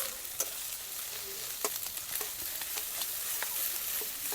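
Ginger-garlic paste frying in a pan for a village-style crab curry, a continuous close sizzle broken by regular light scrapes and taps of a spatula stirring the paste.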